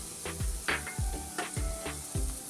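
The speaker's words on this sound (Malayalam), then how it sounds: "1 സ്പൂൺ ഗരം മസാല എല്ലാം കൂടി ഇട്ട് വഴറ്റുക." Onions fry in a pan with chilli, coriander, pepper powder and garam masala, a soft steady sizzle broken by rhythmic spoon strokes about every half second.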